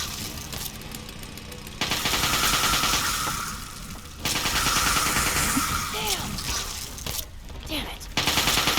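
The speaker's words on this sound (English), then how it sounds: "Keep firing!" Rapid automatic gunfire and bursts of shooting in Fallout 3, loud and sustained in several stretches, mixed with game effects and voices in between.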